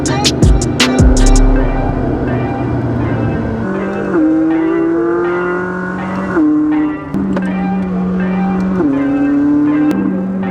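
Supercars, a Lamborghini Aventador and McLarens, approach along Tuna Canyon road, loud revving engines rising and falling through gear shifts, with sharp bursts at the start and a continuous roar throughout.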